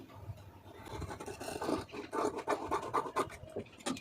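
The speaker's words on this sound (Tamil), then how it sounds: "இதை அப்படியே கட் பண்ணிடலாம்" Scissors snip and scrape through blouse fabric during a lining-blouse cutting lesson, a close, soft run of repeated rasping cuts at an uneven rhythm with no talk.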